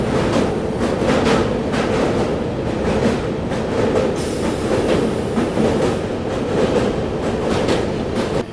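A train rolling across the Jayaprakash Narayan rail-cum-road bridge in Bihar, steady loud rumble with rhythmic clickety-clack of wheels over rail joints throughout, heard close from on board.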